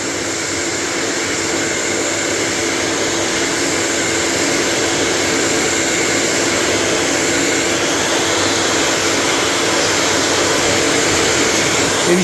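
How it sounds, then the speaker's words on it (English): A heat gun or hair dryer blows steadily on a CB radio faceplate, a loud, unbroken whooshing roar that holds level throughout with no pauses or talk. "Heat gun, hair dryer."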